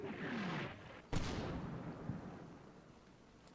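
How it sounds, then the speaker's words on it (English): Artillery fire in the wartime strategy game Combat Mission Market Garden: a muffled distant boom, then a sharp crack with a long rumbling decay, and a final short bang. "So artillery is missing, heading directly to the south of my troops on this turn."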